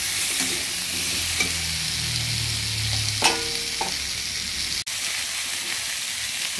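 Pumpkin pieces fry in a pan with a steady sizzle while a spatula stirs them, giving scraping strokes and a few sharp clinks against the pan, close and fairly loud with no talking.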